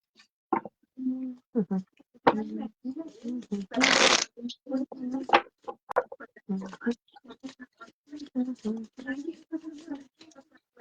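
Tarot cards being shuffled by hand, a dense burst of riffling near the middle with softer card flicks before and after, all under steady conversational talk.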